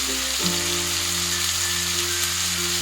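Chicken pieces sizzle in a hot pan for a green hariyali curry, with a steady close frying hiss that jumps in and holds for about three seconds.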